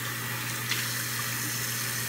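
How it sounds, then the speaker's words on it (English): Tap water runs steadily into a sink while someone wets their face during a morning skincare routine before using a foaming cleanser; a soft, continuous splash with no talking. "So, I'm just gonna wet my face"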